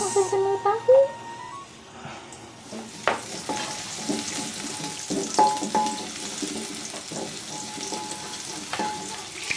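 Sambal goreng chili paste frying and being stirred in a pan in a rural home kitchen, a steady close sizzle with scraping stir strokes and clinks, while people talk intermittently in the background.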